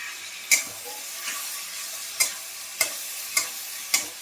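Fried pieces of catla fish dropped one by one into a pan of curry with boiled potatoes, giving sharp splashy sizzles about every half second to second over a low background simmer.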